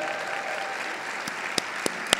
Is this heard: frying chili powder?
no